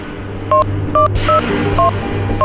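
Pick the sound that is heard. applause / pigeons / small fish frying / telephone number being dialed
telephone number being dialed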